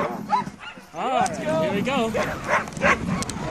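Sled dogs yip and bark excitedly in a lively chorus close by near Yellowstone, Montana, in February, while someone speaks briefly over the noise.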